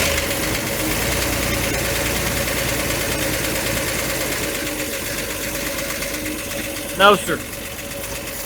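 A 1966 Chevrolet Corvair engine idles steadily and loudly up close with an even mechanical hum, a brief voice cutting in near the end.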